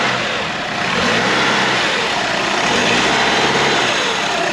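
A 2007 Chrysler PT Cruiser's 2.4-litre engine revs hard under throttle, close and loud, holding a steady high drone for several seconds with no talk over it.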